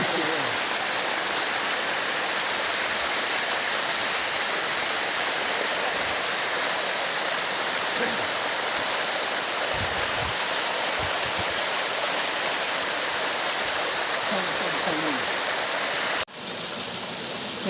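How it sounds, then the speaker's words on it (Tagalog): A waterfall roars as a steady, dense rush of falling water, close and constant throughout with no let-up. "Yan guys, ang waterfall"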